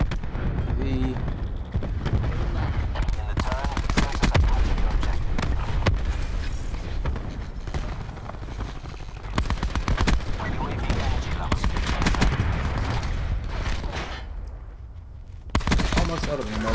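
Gunfire in Black Ops 4 during a Sandstorm camo grind: loud, dense automatic bursts with heavy explosive booms fill most of the stretch, briefly dropping off before another blast near the end.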